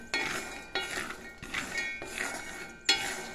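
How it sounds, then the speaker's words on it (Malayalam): Chickpeas are roasted in a pan and stirred in regular sweeps, each pass bringing a scraping rattle of dry peas and a metal clink, repeated about five times close by. "ഞാൻ കടല വറുത്തുകൊണ്ടിരിക്കുക,"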